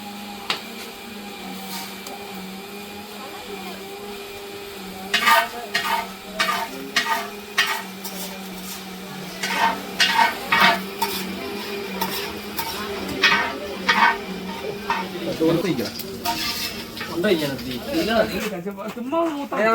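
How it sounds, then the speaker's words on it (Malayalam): Chana dal frying in ghee at a busy wedding-house kitchen, with repeated sharp scraping and clanking strokes of stirring over a steady sizzle, voices talking in the background throughout. "നെയ്യ് ഒഴിച്ചതിന് ശേഷം കടലപ്പരിപ്പ് ഇടാൻ"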